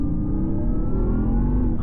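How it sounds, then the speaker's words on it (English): A Porsche Taycan Turbo GT electric car accelerating, a steady low rumbling whir with a faint rising tone, close and continuous over a short burst. "This is a Porsche Taycan Turbo GT."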